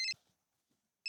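A phone rings in a Hindi sitcom scene: two short, bright electronic ring bursts about a second apart, separated by near silence.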